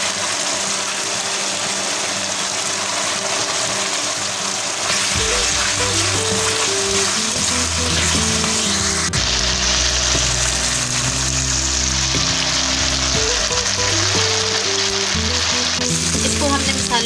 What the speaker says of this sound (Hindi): इसको हमने मसाले डाल के 2 मिनट तक भूना है।